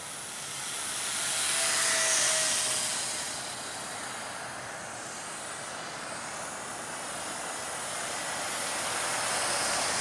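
Small E-Flite UMX B-17 Flying Fortress four-engine RC model bomber flying overhead, a continuous whining motor drone that swells and fades as it passes, with no talking.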